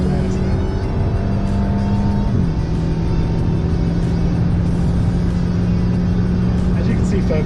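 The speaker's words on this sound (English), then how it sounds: "We're going to bust this car's ass now." A 2004 Audi A4 accelerates hard on an open road, its engine note rising steadily under continuous loud road and wind noise from inside the cabin.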